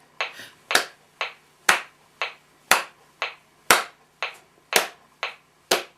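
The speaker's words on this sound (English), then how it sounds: "we can clap our hands to every other beat so we can hear it on the opposite beats" Crisp hand claps falling on every other tick of a metronome, a steady alternating pattern of sharp, close transients about twice per second for six seconds, with no voices.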